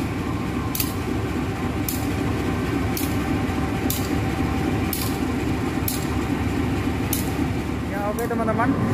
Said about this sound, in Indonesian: sudah ada di samping saya rangkaian kereta api Erlangga